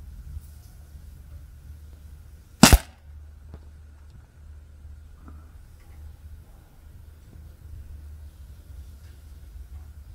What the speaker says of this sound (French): On va en tirer un deuxième